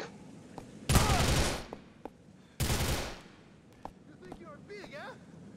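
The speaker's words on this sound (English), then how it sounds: "Bro, where am I being shot from?" Two loud bursts of gunfire in Grand Theft Auto 4 ring out about two seconds apart, each a dense broadband volley lasting under a second, with scattered single shots and faint chatter in between.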